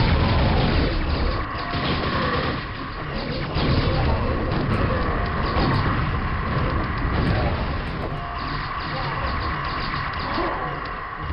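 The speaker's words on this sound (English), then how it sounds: "I forgot, I got a rocket launcher," Rocket launcher blasts in the video game Pak Attack, a dense run of booming explosions and crashing impacts that roll on steadily over game noise.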